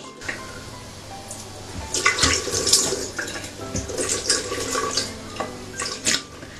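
Tap water runs steadily into a sink while a face is rinsed after washing with Garnier Smooth and Soft gentle cleansing foam, with splashing bursts and dripping close by and no talk.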